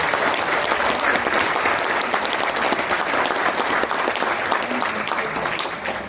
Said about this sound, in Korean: 함께 해주신 모든 분들께 큰 박수